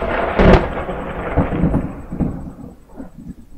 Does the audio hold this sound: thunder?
yes